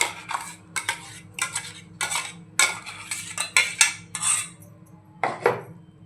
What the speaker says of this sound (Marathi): आता हे सर्व आपण एका भांड्यात काढून घेऊया।